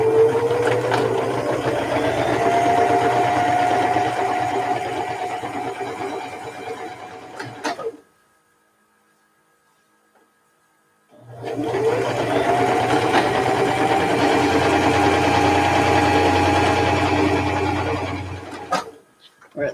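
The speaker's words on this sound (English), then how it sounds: "Oh, it makes a nice stitch. I do love this Janome." Janome sewing machine chain piecing quilt blocks, running in two long steady stretches of close, fast stitching whir separated by a few seconds of near silence; no one speaks.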